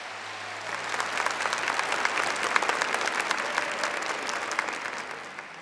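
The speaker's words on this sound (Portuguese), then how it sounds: "Dá uma salva de palmas para ele." A large audience claps loudly and continuously for several seconds, dense and even, with no voices over it.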